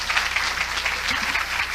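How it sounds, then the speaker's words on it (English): An audience at a lecture by Dr. Jewel Pookrum applauds, a steady, fairly loud patter of many hands clapping together. "let's give Dr. Pookrum a round of applause"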